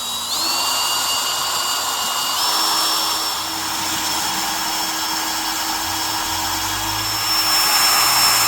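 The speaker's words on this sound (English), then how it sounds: "I'll be routing it out with a little router" A small handheld router cuts into the wood of a large carved mushroom, giving a steady, loud, high-pitched motor whine that holds throughout, with a slight pitch step early on.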